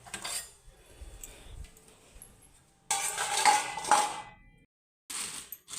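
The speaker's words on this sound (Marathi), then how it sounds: "खोबरं डायरेक्ट ह्या पातीत दोन किसून घेते किसणी इथं आहे" A coconut is grated by hand on a metal grater in a home kitchen, making close, short bursts of rough scraping mixed with light metallic clinks, separated by quiet pauses.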